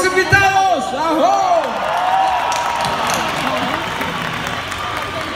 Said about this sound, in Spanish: Un aplauso para los invitados